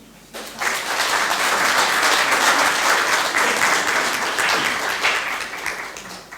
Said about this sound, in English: So a big round of applause to all the successes of the Deeplish Community Centre